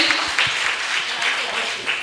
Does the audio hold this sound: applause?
yes